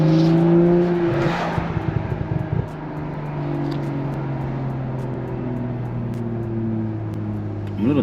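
A BMW M340i launching hard from a standstill, its engine holding a loud, steady drone with a brief rise at the start, heard up close from inside the car with no talking.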